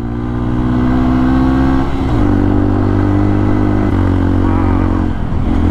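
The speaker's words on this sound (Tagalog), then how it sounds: "Ang bagal ng motor ko, ang tarik ko." A motorcycle engine labors up a steep mountain road in Benguet, droning loudly and steadily with pitch shifts as it changes gear, close and continuous.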